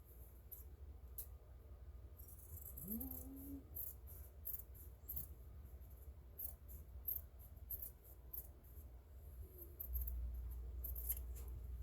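Sharp scissors snip at the points of fabric bunting flags, a series of quiet, crisp, irregular cuts close by in a hushed room, with no talking.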